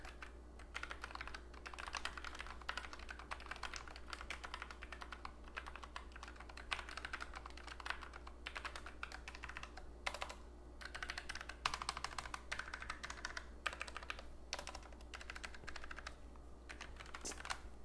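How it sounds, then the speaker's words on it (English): Steady, continuous typing on a Logitech MX Mechanical Mini keyboard with tactile quiet switches, producing soft, close, rapid key clacks over a low background hum. "These are the tactile keys, so the same ones that I have here, basically the equivalent of a brown."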